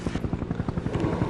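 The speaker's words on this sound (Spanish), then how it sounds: "Un helicóptero." A helicopter's rotor thumps in a fast, even rhythm, loud and close, as if passing overhead.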